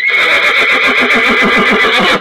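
A horse at a first-responder training session gives a loud, close, sustained neigh with a fluttering whinny that runs the full length, heard alone without talk.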